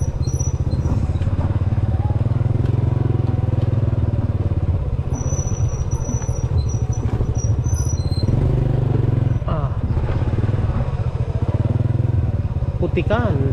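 A motorcycle engine drones steadily throughout, with squeaks and clatter as it rolls over a rough, wet, muddy village road, and a voice talks intermittently over it.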